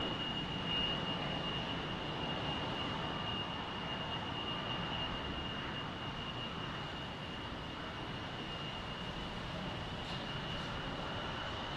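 An airplane passing over Salt Lake City airport, a steady distant engine roar with a high whine, sustained and fairly faint throughout with no voices.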